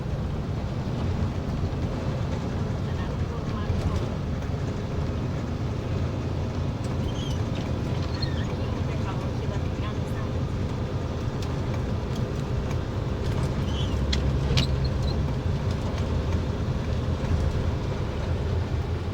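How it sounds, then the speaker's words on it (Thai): A truck pulling a trailer drives along the road, a steady low engine and road rumble continuing without pause, with faint scattered rattles and ticks over the top. "ขับรถพ่วง"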